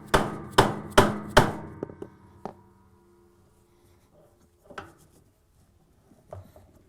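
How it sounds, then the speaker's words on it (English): A mallet strikes a brake removing tool on the brake assembly of a Whirlpool/KitchenAid/Maytag washer transmission. Four sharp, close blows come in quick succession, then a lighter one, then a few faint knocks and handling clatter. "Place the brake removing tool on the brake assembly and using the mallet,"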